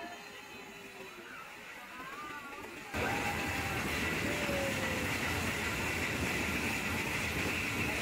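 The Nilgiri Mountain Railway toy train to Ooty runs with a low, wide rumble that jumps louder partway through, becoming a constant rolling roar with occasional faint metallic squeals.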